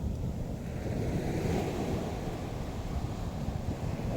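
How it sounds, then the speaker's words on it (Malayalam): Heavy sea surf roars continuously, waves crashing and rumbling with gusting wind noise over the microphone; no voices. "കടൽ കലി തുള്ളി വരികയാണ്."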